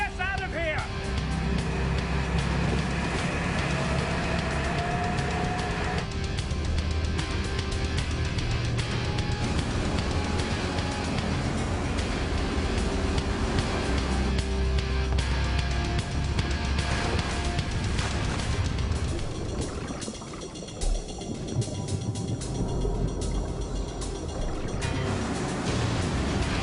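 Boat engines running on open water during a police chase, a loud continuous roar and churning with water splashing, under shouted voices.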